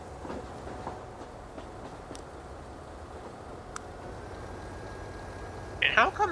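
Electric commuter trains roll over railway tracks and a junction in the video game Transport Fever 2, a faint, steady distant rumble with scattered clicks and a louder clattering burst at the end.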